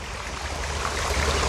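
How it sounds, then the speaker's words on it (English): A small, weak waterfall in a dry New Jersey September spills over rocks nearby, a steady close rushing and splashing with no voices. "we still love the sound of water falling next to us"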